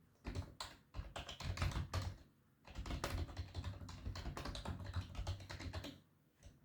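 Typing a code comment on a computer keyboard, with quick, dense bursts of keystrokes running almost continuously, broken by one brief pause partway through and tapering off at the end, close and clear, no voices.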